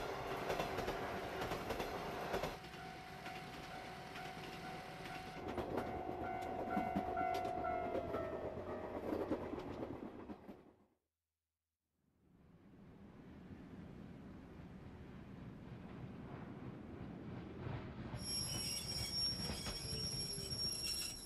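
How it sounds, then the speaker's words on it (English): A train decelerating into a station, with long metallic wheel squeal and rumbling rail noise, briefly cutting to silence before the rolling sound resumes and a high tonal squeal rises near the end. "This train will stop for 10 minutes at this station due to the late arrival of a connecting train."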